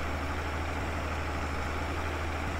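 A tractor engine idles in the farming video game Farming Simulator 22, a steady low droning rumble with a constant hum, unchanging and fairly close throughout with no talk.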